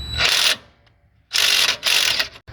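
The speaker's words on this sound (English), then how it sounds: "The next thing you're going to do is take out these 4 bolts right here." Ratcheting wrench loosening 13mm bolts on a John Deere commercial zero-turn mower seat, a few short bursts of rapid metallic clicking with pauses between.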